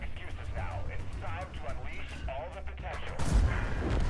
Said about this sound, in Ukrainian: І забираю варяга з одного пострілу.